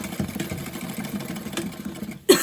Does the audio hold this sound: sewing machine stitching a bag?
yes